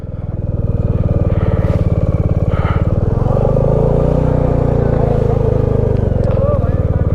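Motorcycle engine running steadily and loud throughout on a mountain ride near Muktinath in Mustang, Nepal, with a low rumbling drone and faint murmur of voices in the background.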